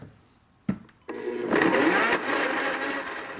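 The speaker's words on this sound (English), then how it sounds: "So that's the magic of the Blendtec blender." A Blendtec blender whirs up sun-dried tomato sauce made with soaked sun-dried tomatoes, a short click and brief motor burst before a steady loud roar of blending that runs alone to the end.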